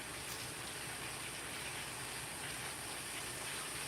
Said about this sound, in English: So the pressure cooker will build up steam.